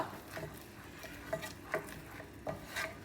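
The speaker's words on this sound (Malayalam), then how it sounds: "ഉപ്പും മുളകും എല്ലാം കൂടിയിട്ട് മിക്സ് ചെയ്യുക" Fries being tossed with salt and chili in a pan give soft scraping and stirring rubs, with a few sharper scrapes spaced through the short stretch, fairly quiet with no talk.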